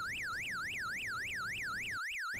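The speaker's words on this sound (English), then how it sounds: "Why would someone like to disassemble a siren anyway?" An SYR-03Y electronic siren, a 12-volt, 20-watt unit rated around 125 decibels, wails loudly and steadily in a fast rising-and-falling sweep, repeating evenly with no other sounds.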